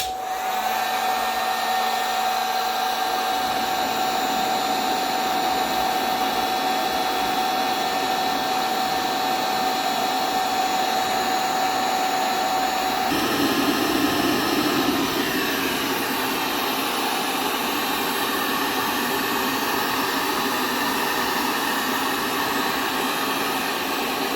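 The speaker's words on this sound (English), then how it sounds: "I'm going to go ahead and hit the button on the heat gun again" Heat gun running under heavy load from a battery and inverter: a loud, steady blowing whir with an electrical tone, which changes character partway through and then keeps droning without a break.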